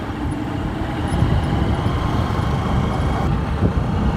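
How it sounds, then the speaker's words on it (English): A motorcycle riding along in third gear, a loud continuous engine and road roar close by with no shifting breaks. "Now I am riding in third gear"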